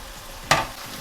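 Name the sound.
fried okra and onion added to sizzling masala in pan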